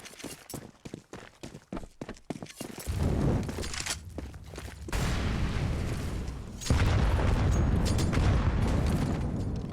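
Grenades explode in a Counter-Strike match on the Inferno map, several deep booms piling into a sustained loud roar after quick rapid footsteps and clatter, with game sounds layered close and full.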